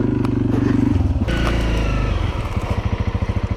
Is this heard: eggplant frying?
no